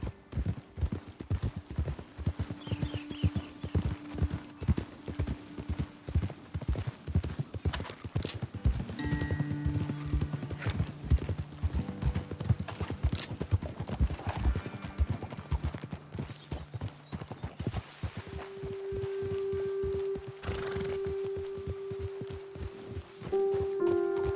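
Horse hooves clip-clopping at a walk in Red Dead Redemption 2, a steady, close rhythm of hoofbeats on a ride up toward a ledge, with an occasional whinny and faint tack rattles, no voices.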